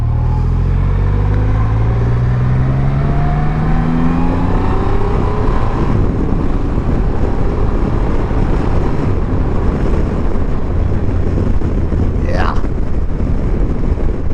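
Engine of a 2020 Triumph Rocket 3 GT motorcycle pulls hard as it accelerates, a loud rising drone whose pitch climbs through the gears, heavily buffeted by wind noise from riding at speed.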